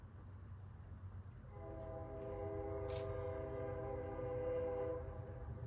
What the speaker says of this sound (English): Forgot to close my window. You're going to hear the train.